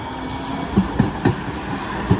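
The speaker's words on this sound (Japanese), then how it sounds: "そこまでね、路面電車で、移動しようと思います。" A tram passing along a Philadelphia street, with a few sharp rail-joint clacks at irregular intervals over a steady low rumble of city background.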